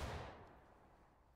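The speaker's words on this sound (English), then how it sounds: "Good volley." Musket volley fired by a line of soldiers in the video game War of Rights, one loud burst at the start that decays into a rolling echo, then another sharp crack right at the end.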